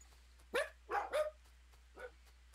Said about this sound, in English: Don't bark at me.